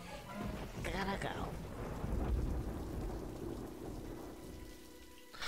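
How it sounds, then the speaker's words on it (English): Steady rain patters under low rumbling thunder in the video game Conker: Live & Reloaded, with a voice briefly talking over the storm at a moderate distance. "Good thing it's raining."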